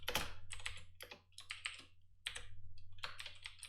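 Keys on a computer keyboard clatter in quick bursts of typing, close and crisp, with short pauses between runs of keystrokes and no voices.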